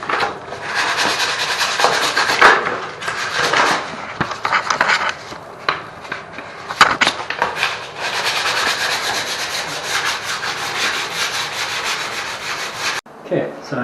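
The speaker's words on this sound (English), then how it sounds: "Let's do a quick sand down." Continuous abrasive rasping of sandpaper on a repainted bathtub surface during a bath renovation, close and steady with brief pauses and shifts in stroke, ending abruptly near the finish.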